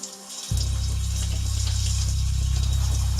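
Water runs steadily from a shower after a quiet start, a continuous close spray with a low rushing body that holds even and unbroken for the rest of the stretch, with no voices.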